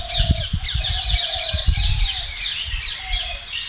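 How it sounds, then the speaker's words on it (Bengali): A flock of parrots in a jungle, with busy overlapping high chirps and squawks from many birds spread across the canopy, over a low rumbling, thumping background of movement nearby. "এতগুলো টিয়া পাখি জীবনে কোনোদিনও দেখতে পাইনি"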